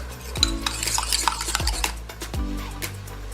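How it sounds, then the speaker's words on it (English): Coconut milk going into a pot of Jamaican stew peas with pigtail and chicken foot, heard as stirring and scraping against the pot, with three thuds of metal on metal, close and steady, with no talk. "I'm going to add in the coconut milk."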